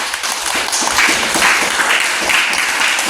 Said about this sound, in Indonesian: berikan aplaus dulu kepada Reza